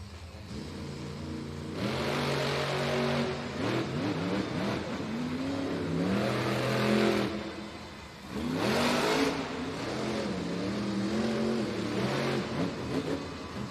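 The El Toro Loco monster truck engine roars through a timed run at an indoor arena event, revving repeatedly in loud rising and falling surges with steady mechanical whine and noisy bursts between gear changes.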